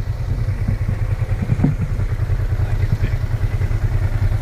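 Motorcycles idle and rumble close by with a steady low engine drone, a few light clatters over the top and no one talking.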